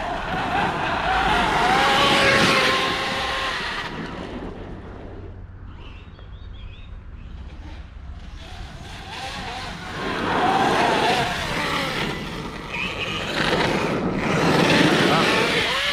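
Arrma Kraton 8S RC car with a Dynamite 1200KV motor driving hard and steering on grass, its electric motor whining and tires scrubbing in loud surges around a pause, with a voice talking over parts.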